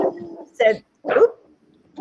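A dog barks indoors, giving two short, close barks in quick succession, with a person's voice talking around them.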